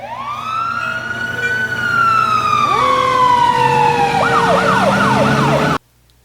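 A fire engine siren wails loud and close, a long rising and falling tone joined by a faster warbling yelp near the end before it cuts off abruptly.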